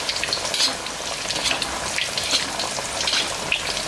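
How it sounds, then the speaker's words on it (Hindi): Rohu fish pieces, coated in masala, frying in hot oil in a pan, a constant dense sizzle with bright popping spatters scattered throughout, close and loud with no one talking. "एक तरफ से फिश अच्छी तरह से फ्राई हो जाए"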